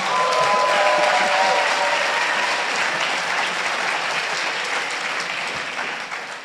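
An audience bursts into steady applause, a dense wash of clapping that holds for several seconds and slowly fades, with no voices over it.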